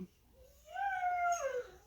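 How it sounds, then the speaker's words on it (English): Dogs whining indoors, a rising high-pitched whine that swells and wavers for about a second before tapering off, fairly close and moderately loud, with no talk over it. "you guys can hear my dogs whining"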